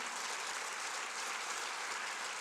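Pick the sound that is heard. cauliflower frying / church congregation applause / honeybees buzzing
church congregation applause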